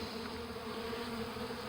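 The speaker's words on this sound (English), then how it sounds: "You see these bees, they're looking around for that swarm." A swarm of honey bees hums in a steady, dense buzz, close and continuous with no voices.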